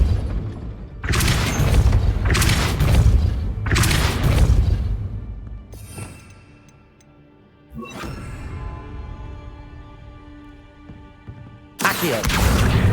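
Depulso force spell cast repeatedly in Hogwarts Legacy on PC: several loud, booming blasts with rushing whooshes, each burst swelling then fading, separated by brief quieter magical shimmering.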